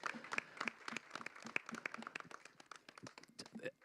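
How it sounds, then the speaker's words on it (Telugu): Applause from an audience at a film teaser launch event, a fairly faint, steady patter of many hands clapping with scattered sharper claps throughout, no voices over it. "అసలు అందరూ గట్టిగా చప్పట్లు కొట్టండి, బ్లెస్సింగ్స్ ఇవ్వండి అమ్మాయికి"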